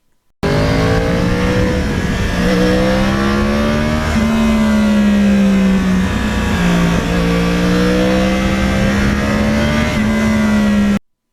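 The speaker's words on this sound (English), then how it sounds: "that exhaust system, it has a note that when you're driving this bike and you back off the gas" A loud Yamaha R1 crossplane motorcycle exhaust drones steadily, its pitch rising and dipping as the throttle opens and eases off, close and continuous with no talking.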